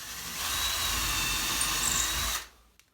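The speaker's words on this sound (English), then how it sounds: "you want to drill a hole that's basically the size of the shaft of the screw" A power drill whirs steadily for about two seconds, boring a pilot hole into a wood stud close up, then spins down and stops.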